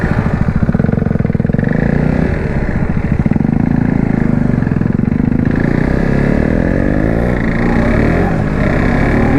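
A KTM RC 390 motorcycle engine with a noise problem, running loud and close with a steady, rapid throb that lifts in pitch as it is revved.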